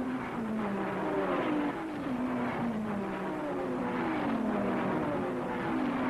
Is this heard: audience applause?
no